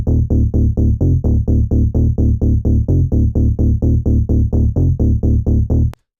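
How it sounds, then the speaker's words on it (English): Deep square-wave synth bass sample from a tech house pack, pulsing in a tight, even run of loud, buzzy eighth-note hits that stops abruptly at the end. "Then we have bass spray, which is a deep square bass,"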